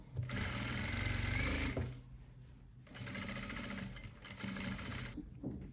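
A sewing machine stitches around the edge of a pillowcase, running in two close, steady bursts separated by a short pause.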